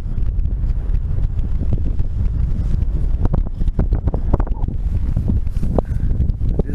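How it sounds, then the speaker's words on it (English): Strong wind at an outdoor dog sled race on the upper end of Big Island near Makkovik Bay, blowing hard and continuously across the microphone in loud rumbling gusts. "I think it's a nice bit of wind"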